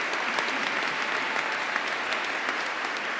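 A commencement audience applauds graduating Environmental Studies seniors, a dense, sustained wash of clapping from a large crowd, continuous and fairly loud throughout.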